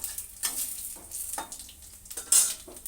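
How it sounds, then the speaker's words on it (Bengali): Dried red chillies, bay leaf and cumin hit hot oil in a wok for tempering, making soft crackling sizzles and several sharp clinks of a utensil against the pan, no talking. "প্রথমে তেল দিয়ে দিয়েছি দেখছো এবার শুকনো লঙ্কাটা তেজপাতা কিছুটা জিরে আমি সুন্দর করে ফোড়ন দিয়ে দিচ্ছি কড়ার মধ্যে"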